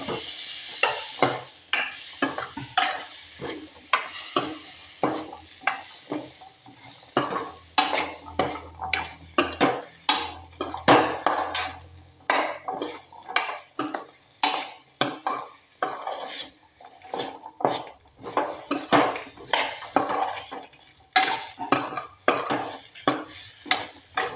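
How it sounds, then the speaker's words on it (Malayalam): Chopped papaya pieces sautéed in a pan for a papaya masala curry, with steady, rhythmic scraping and clanking strokes of a utensil against the pan and a faint sizzle underneath, close and continuous. "അതിലോട്ട് കഷ്ണമാക്കി വെച്ചിരിക്കുന്ന ഓമയ്ക്കായ അത് ഇട്ട് വഴറ്റുകയാണ്."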